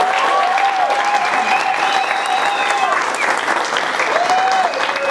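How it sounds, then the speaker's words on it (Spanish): A crowd applauds steadily for several seconds, dense clapping with faint cheering underneath. "Un aplauso para él."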